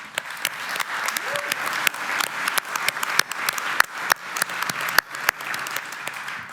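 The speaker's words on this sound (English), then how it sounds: "they really need an applause on this side" Audience applause at a founders panel marking ten years of Startup Autobahn, steady clapping from a crowd lasting throughout with sharper individual claps standing out.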